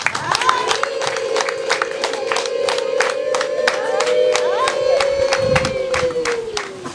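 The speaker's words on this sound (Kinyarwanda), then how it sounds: "Kumbera amashyi n'inguni." Concert audience bursting into rhythmic clapping and cheering, sharp regular claps over a wash of crowd noise, with a sustained sung or shouted tone running through the middle.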